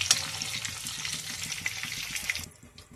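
Pachadi fries in a pan for a coconut and ivy gourd curry, a steady faint sizzle with soft stirring scrapes that cuts off near the end.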